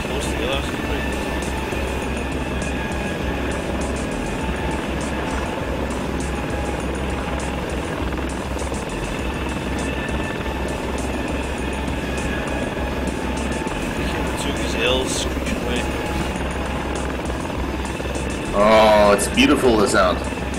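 A helicopter's engine and rotor in the FlightGear flight simulator drone steadily and loudly throughout, with a brief higher whine near the end and some talking over it.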